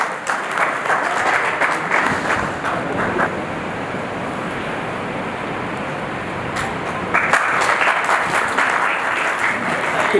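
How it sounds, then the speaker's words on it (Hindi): An audience applauds at a ceremony honouring a guest, a sustained wash of clapping that dips slightly midway and swells again toward the end, with some wind noise on the microphone. "जोरदार तालियों से इनका स्वागत होना चाहिए।"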